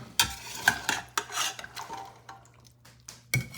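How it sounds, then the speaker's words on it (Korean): Baked beans with small diced ingredients are stirred in a pot, giving close, irregular scraping and clinking of a spoon against the vessel, with a faint low hum underneath. "그리고 고루 섞으면서 비율을 살펴보고 있어요"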